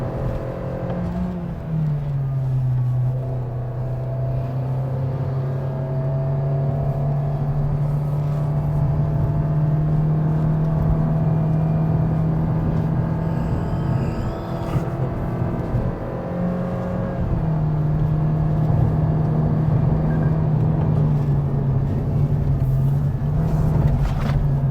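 A 2023 Toyota Vios engine strains up the Genting hill climb with a steady droning hum, its pitch dropping briefly as the automatic gearbox shifts up, then holding level, heard close from inside the cabin.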